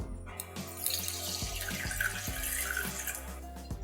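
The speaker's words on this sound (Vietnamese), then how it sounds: "Mình sẽ cho nước vào trong một cái tô" Tap water running into a bowl for washing fresh shrimp, a close steady gush with a rising filling tone and occasional splashes.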